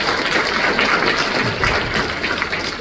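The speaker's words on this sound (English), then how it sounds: "that throws a round of applause, didn't you think?" An audience applauding at a university interview and Q&A: steady, dense clapping from a room full of people, fairly loud and heard alone without talk.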